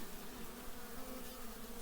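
Honeybees buzz steadily over a hive frame of sparse brood in autumn, a continuous close droning hum without pauses or voices.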